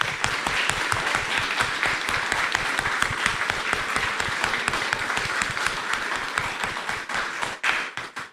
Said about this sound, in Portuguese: Vamos dar uma salva de palmas para as mamães?